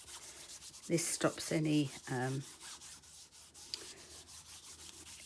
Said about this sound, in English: And I'm going to use my trusty dust bag.